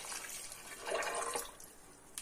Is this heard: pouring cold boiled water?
yes